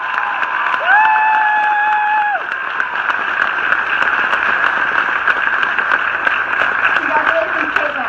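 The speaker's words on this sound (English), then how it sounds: "I believe she deserves a round of applause" Audience at a 2018 high school graduation ceremony applauding and cheering for the class valedictorian, a steady broadband crowd wash lasting throughout, with whoops and shouts rising over it early on.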